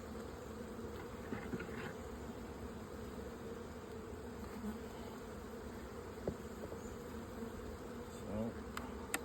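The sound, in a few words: honeybees buzzing in an opened hive box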